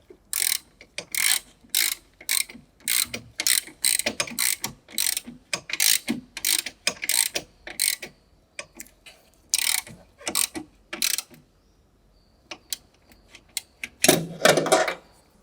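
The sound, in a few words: ratchet with 10-inch extension and 13 mm deep socket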